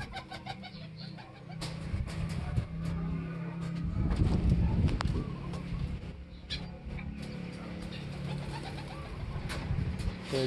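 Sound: racing pigeon arriving and cooing

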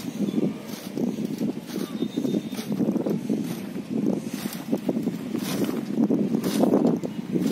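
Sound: hand-pushed weeder made from bicycle wheel being pushed

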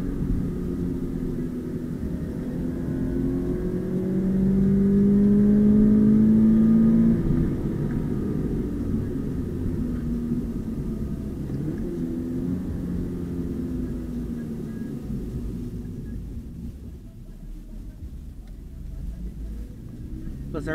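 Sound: 2020 Subaru BRZ accelerating from 0 to 80

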